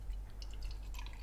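Shellac being poured from a container into a small pot while French polishing a guitar, giving a faint, brief trickle and a few light drips with no talking.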